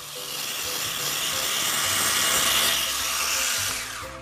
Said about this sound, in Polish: Ma taką dmuchawę chłodnym powietrzem, żeby nas mniej bolało.